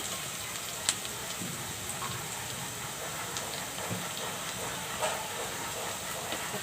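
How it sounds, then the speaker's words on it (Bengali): Onions frying in mustard oil in a pan give a continuous soft hiss and sizzle, with faint crackles scattered throughout. "তো আমি সরিষার তেল দিয়ে এখন পেঁয়াজটা হালকা লাল করে নেব"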